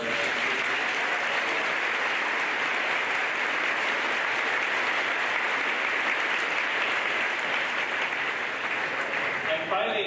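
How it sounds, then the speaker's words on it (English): Sustained audience applause at an 8th grade celebration for the teachers, dense and even clapping from a large crowd lasting about ten seconds. "a round of applause for our 8th grade teachers"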